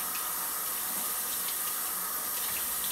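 Tap water runs steadily into a sink while face cleanser is rinsed off, a constant close hiss and splash with no pauses and no voices.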